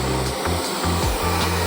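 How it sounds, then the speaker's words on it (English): A blow dryer fitted with a diffuser drones steadily and loudly while drying hair, its airflow wavering and rumbling as it moves around, with no talking. "use a blow dryer with a diffuser to dry it"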